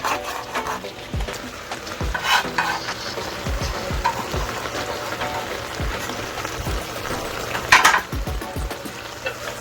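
Turmeric cabbage with chopped pepper fries in a pan with a constant crackling sizzle, while a utensil scrapes and taps through it in uneven bursts, close up, one louder scrape near the end.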